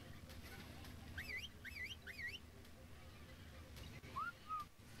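A bird in the survival video game Ark Survival Evolved gives three quick, faint whistling chirps, then a single softer sliding call a moment later, over low background game ambience.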